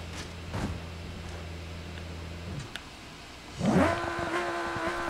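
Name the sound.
race car engine revving in BeamNG.Drive video game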